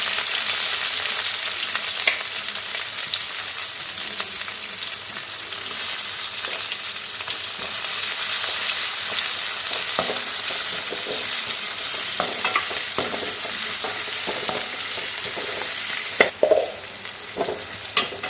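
Ginger, garlic and onion fry in a pan with a steady, loud sizzle that runs the whole time, broken by scattered spatula scrapes and stirring clinks and a louder clatter near the end.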